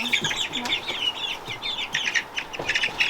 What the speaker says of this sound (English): There goes the chickies going in the cage.